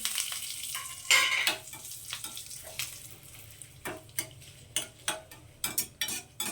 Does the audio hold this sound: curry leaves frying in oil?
yes